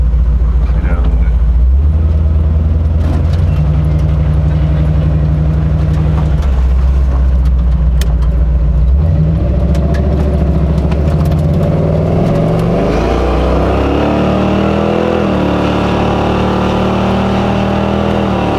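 A big-block Monte Carlo with a bone stock truck motor drives along, its engine droning loud and close, steady at first and then rising as it picks up speed, while a person talks over it.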